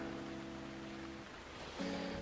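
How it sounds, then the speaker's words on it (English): Steady rain falling in Miami, a continuous soft hiss with a low humming tone running underneath that fades midway and returns near the end. "It's been raining all weekend."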